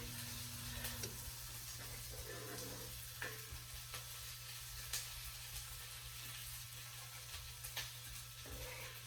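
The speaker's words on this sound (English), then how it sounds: "what I'm trying to do is scrape just slightly on the bottom of the pan" Onions frying in a pan for a shepherd's pie crackle steadily while a spatula scrapes across the pan bottom in short, intermittent strokes, close and fairly quiet, with a low hum underneath.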